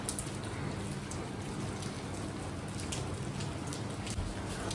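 Steady rain falling on a hillside hotel terrace in Manali, a dense, even hiss of drops hitting the surface, close and constant, with no voices.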